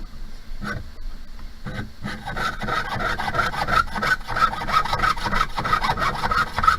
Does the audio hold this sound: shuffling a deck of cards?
no